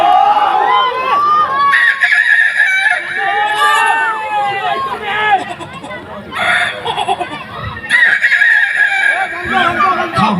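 During a rural Assamese comedy stage show, a man imitates a rooster crowing, giving several long, loud mimicked crows in a row, with crowd noise and other voices in between.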